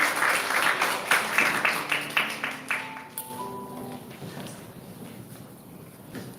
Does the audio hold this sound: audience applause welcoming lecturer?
yes